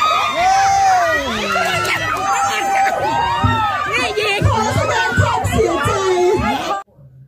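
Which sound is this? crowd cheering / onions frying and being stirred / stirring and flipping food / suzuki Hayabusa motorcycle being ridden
crowd cheering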